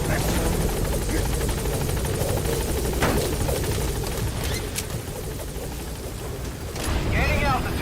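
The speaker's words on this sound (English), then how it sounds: "Support helicopter has arrived." Rotor thump of a support helicopter arriving at a landing zone in the game Metal Gear Solid V: The Phantom Pain, loud and continuous throughout with a steady low chop.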